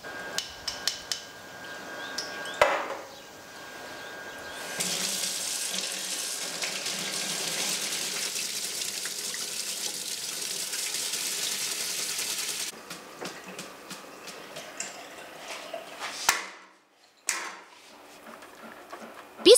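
Tap water runs steadily over tomato seeds being rinsed, a hissing stream lasting several seconds with clinks and handling sounds before and after, close by and without talk.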